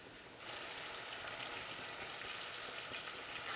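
Lemon juice poured into hot melted butter in a pan, setting off a sudden bright sizzle that holds steady and fairly soft to the end.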